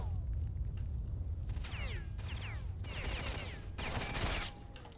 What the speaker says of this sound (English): All of the gunshots, definitely.